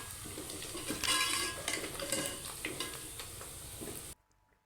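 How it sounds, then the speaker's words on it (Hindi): Ginger garlic paste sizzling with onions in a pan as a spoon stirs, steady close frying with scraping clinks before it cuts off. "इधर अदरक लहसुन का पेस्ट ऐड कर देंगे।"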